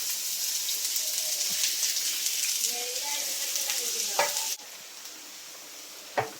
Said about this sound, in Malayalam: എണ്ണ ചൂടായിട്ടുണ്ട് നമുക്ക് ആദ്യം സബോള ഇട്ട് കൊടുക്കാം